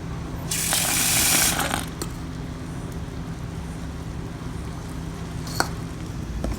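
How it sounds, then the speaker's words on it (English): Water pours into chickpea flour batter in a kitchen, a brief close gushing splash lasting about a second, followed by quiet background hiss and a few small clicks. "I'm going to add water to this as needed."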